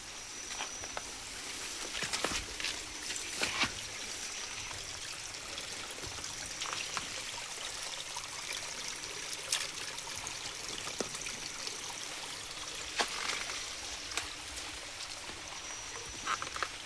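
Water flowing steadily in a small stream or waterfall in a rural sugarcane-farm setting, a faint, continuous rushing hiss with occasional soft splashes and no talking.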